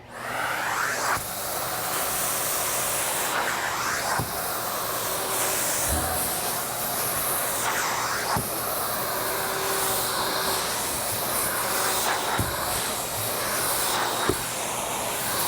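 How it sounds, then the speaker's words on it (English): A wet vac sucks paste off a prepared concrete surface, a loud continuous hissing roar with occasional thumps and scraping as the nozzle moves, with no talk. "So now we're going to use our wet vac."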